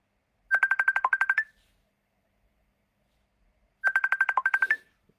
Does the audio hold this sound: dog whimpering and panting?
no